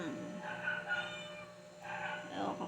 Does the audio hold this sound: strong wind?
no